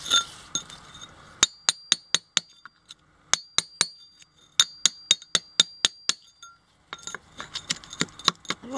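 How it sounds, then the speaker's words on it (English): Sharp metallic strikes of a hammer on a chisel cutting out concrete beneath a leaking main water valve, arriving as close, loud blows in quick rhythmic bursts separated by brief pauses. "I need to chisel out just a little bit of concrete under there."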